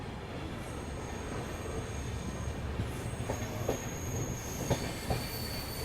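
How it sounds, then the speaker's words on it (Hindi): An ALCO diesel locomotive runs through Gondia yard in India with a steady, continuous rumble of wheels and wagons, broken by a few sharp rail clicks and squeaks in the latter half. "एल्को लोकोमोटिव"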